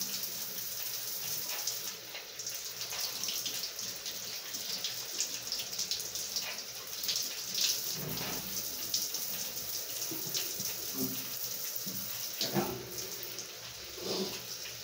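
Tap water runs steadily into a tub for a dog's bath at home, a continuous broadband splashing that holds fairly even throughout with a few louder surges, no talk over it.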